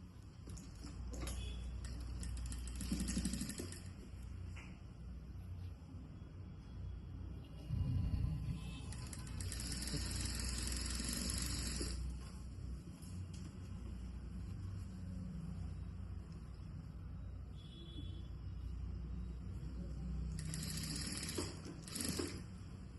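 A sewing machine stitches the side joint of a blouse, its motor running steadily in close, sustained bursts with short pauses between runs.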